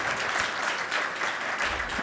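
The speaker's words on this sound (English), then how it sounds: "let's give her a round of applause" Steady, dense audience applause at a fireside chat event, a continuous wash of many hands clapping at moderate loudness with no break.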